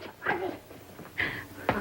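A dog barks in a few short, separated bursts indoors, moderately loud with no clear talk over it.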